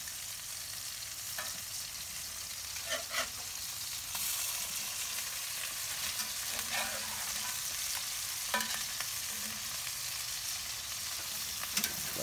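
Burger patties sizzle on a Kamado Joe grill, a steady broadband hiss running throughout with a few louder crackles and spatula scrapes as they are flipped, close and with no talking.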